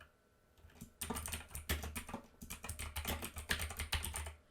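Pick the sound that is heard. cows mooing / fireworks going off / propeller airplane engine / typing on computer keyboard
typing on computer keyboard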